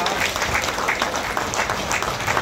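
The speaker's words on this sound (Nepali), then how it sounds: "तपाईँले ताली बजाउनु नबिर्सिनु।" Guests at a Nepali Christian wedding clap together in a dense, continuous round of applause, loud and close, lasting the whole moment with a faint murmur of voices underneath.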